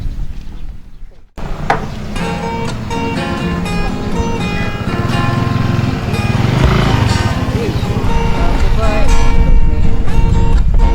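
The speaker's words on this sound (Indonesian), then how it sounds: "motor tua nih" An old motorbike engine runs close by on Lombok, a steady uneven putter that grows louder after a short pause, while people talk over it.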